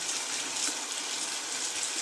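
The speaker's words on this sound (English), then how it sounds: "And then rinse it with the water, warm water." Warm tap water runs steadily over a makeup brush being rinsed, a continuous hissing stream close by with slight fluctuation and no voices.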